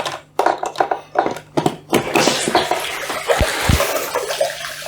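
Water pouring and splashing through an Eheim Pickup 200 sponge aquarium filter, a steady close wash of flow with irregular bursts and gurgles, no voices.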